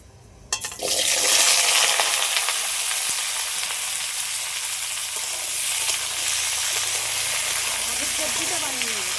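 Washed, cut winter vegetables and potatoes for khichuri hit a hot pot with a sudden loud hiss, then settle into a steady, close, crackling sizzle that fills the rest of the clip.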